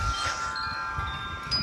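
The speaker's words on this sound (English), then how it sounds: "But I do know it's pretty flipping windy." Wind blowing outdoors near trees on a wet, rocky outing, a steady low rumble of gusts buffeting the microphone for the whole stretch with no voices.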